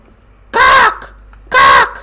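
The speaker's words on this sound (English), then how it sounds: "I remember the dark crows coming through these windows" Crows cawing in the Resident Evil 2 Remake game, two loud harsh caws about a second apart, close and alone.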